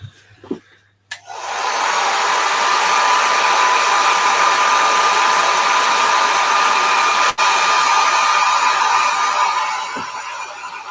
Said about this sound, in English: so I'm going to hit that with a hairdryer